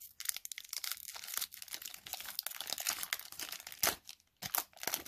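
A glued Legends hockey trading card pack being torn open up close, with dense crinkling and crackling foil wrapper, brief pauses, then renewed sharp rustles.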